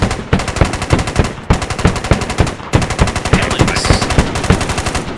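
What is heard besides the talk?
AK rifle gunfire in a video game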